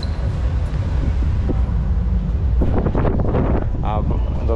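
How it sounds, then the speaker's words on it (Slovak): Strong wind gusting across a rooftop restaurant in Bangkok, buffeting the microphone as a loud, constant rumble, while a person speaks briefly over it near the end. "A dosť vietor začal fúkať."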